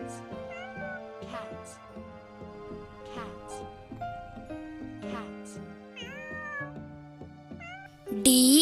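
A cartoon cat meows several times within a children's alphabet phonics song, the short meows rising over the sung melody and backing music.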